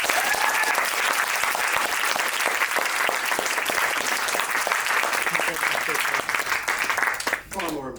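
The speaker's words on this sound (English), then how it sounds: "Can we please make a round of applause for Gareth?" Enthusiastic audience applause at a film screening Q&A, dense sustained clapping for around seven seconds, tapering off with a few scattered claps and a voice starting up at the end.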